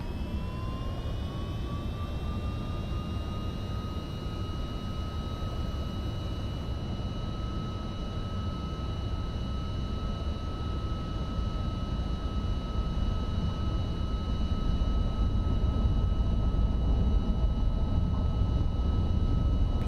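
The trijet engines of a simulated MD-11 spool up on the takeoff roll into a steady, high, whining tone over a broad, low roar that swells gradually louder as the run goes on.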